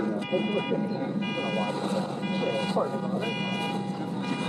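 A parked car's alarm sounds beside a youth soccer field during a USL Academy U20 match, its repeating electronic tones pulsing in regular bursts over steady crowd and commentary talk.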